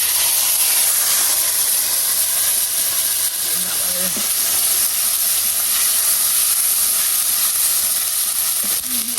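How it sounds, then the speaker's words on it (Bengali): Cumin seeds tempering in hot oil, a loud continuous hissing sizzle that stays close and steady for the whole stretch, with a faint brief tone in the background. "তো আমি এবার জিরা ফোড়ন দিচ্ছি"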